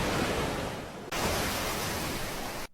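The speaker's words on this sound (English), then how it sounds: "That's just ocean sounds." Ocean surf as a steady, loud broadband wash with no distinct wave breaks, a brief dip near the middle, then cut off abruptly at the end; no voices.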